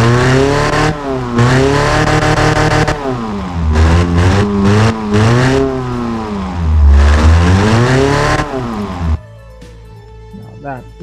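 Ford Model T-style engine in the Automation game revving hard through repeated rising and falling bursts, loud and close, then cutting off into a quiet idle with faint clicks; a voice speaks over it.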